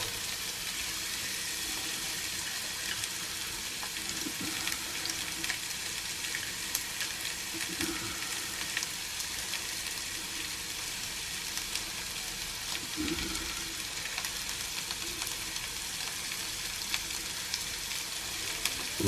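A large onion and a fat clove of smoked garlic fry in olive oil, giving a steady, soft sizzle with faint crackles and occasional stirring scrapes and no talking.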